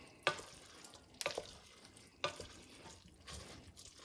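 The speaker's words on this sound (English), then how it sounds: "give this a nice stir while it's heating up" Amatriciana sauce is stirred in a heating pan, three or four distinct scraping, wet swishes of a spoon against the pan at roughly one-second intervals, close and quiet, with a faint sizzle beneath.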